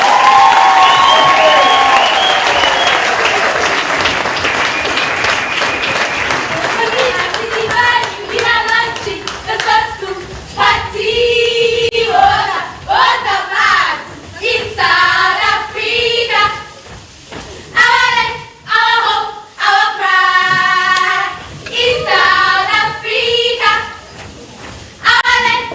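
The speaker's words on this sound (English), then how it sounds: "please give a warm round of applause for Rosina's champions!" An audience at a school re-classification launch breaks into loud, dense applause for the opening several seconds. The clapping then thins out as voices take over with sustained, melodic calls over scattered hand claps.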